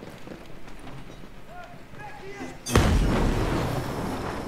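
A grenade explosion in Ghost Recon Breakpoint, one sudden loud boom that rolls off into a long rumbling decay after quieter footsteps and ambient sounds.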